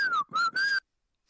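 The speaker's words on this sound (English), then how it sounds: "I shall do the secret whistle." A loud, shrill human whistle in three quick bursts, the first dipping in pitch and the last held longest, then sudden silence, given as a secret signal at the entrance to a cave.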